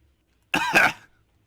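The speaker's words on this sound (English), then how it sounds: "Oh, you got a cough there" A single short, sharp cough from a man, loud and close, bursting from silence and fading quickly back into quiet.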